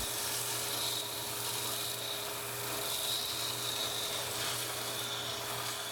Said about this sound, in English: I have to give the sides a quick sanding